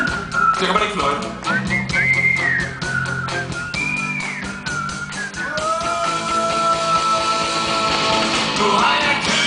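A group of people whistles a melody together with a Danish band in 2010, sustained overlapping tones running continuously and fairly loud, with musical backing underneath.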